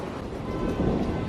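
A low, rumbling roll of thunder, a dense continuous growl that swells slightly toward the end, heard over steady broadband noise that could be rain.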